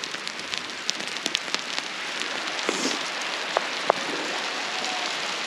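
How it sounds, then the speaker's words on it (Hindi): Hailstones fall on a hillside farm field during ploughing, a dense patter of scattered sharp ticks and taps over a soft, steady hiss, with no speech. "तो ओले भी घिरने बैठ गए।"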